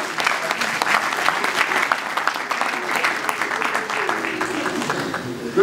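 At a memorial tribute to Maman Marie-Jeanne, an audience breaks into warm, sustained applause, with many hands clapping steadily and loudly throughout and a voice faintly mixed in.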